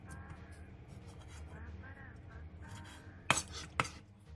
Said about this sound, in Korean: 무를 한입 크기로 자르고 양파는 채 썰기